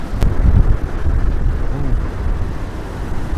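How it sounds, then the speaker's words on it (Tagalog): Super Typhoon Uwan's wind roars as a strong, continuous blast battering the microphone, with a deep, steady rush and no voices. "Pero yung hangin talaga, grabe. Lakas."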